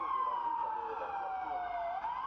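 Police car siren wailing in a steady sweeping tone as deputies rush to break up a late-night street takeover at an intersection, loud and continuous throughout with no talk over it.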